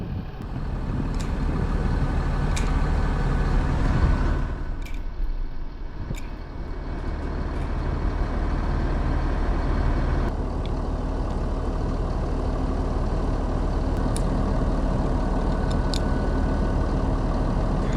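A heavy diesel tractor engine idling steadily nearby, a constant low rumble with faint clicks and rattles, and no voices.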